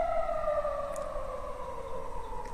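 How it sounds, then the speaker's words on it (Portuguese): An ambulance siren passes outside at night, a steady wailing tone that slowly falls in pitch as it moves by, moderately loud and somewhat distant, heard alone without talk. "Tá passando uma ambulância aqui e eu não tenho como evitar esse barulho."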